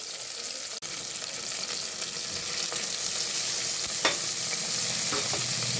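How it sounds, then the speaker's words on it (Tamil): A spoon stirs tomatoes into onions frying in hot oil for a wedding-style mutton gravy. Loud, steady sizzling runs throughout, with a few sharp scrapes and clicks from the spoon. "தக்காளி சேர்த்து நல்லா கிளறி விட்டுக்கோங்க"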